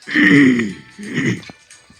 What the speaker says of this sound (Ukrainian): Вибачте, то що я кашляю, я просто не можу.